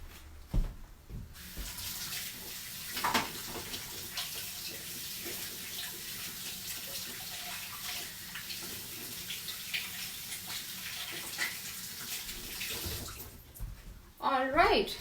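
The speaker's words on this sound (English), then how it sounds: "I'm going to wash my hands and quickly be back." Kitchen tap water runs in a steady rushing stream as hands are washed beneath it, with soft splashing and brief clatters. It starts and stops abruptly near the end, with faint background voices.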